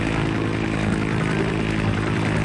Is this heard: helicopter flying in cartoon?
yes